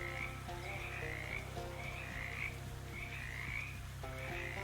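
A chorus of frogs croaks in the video game Shadows Over Loathing, their calls repeating in a regular rhythm over a steady low background drone, with no voices.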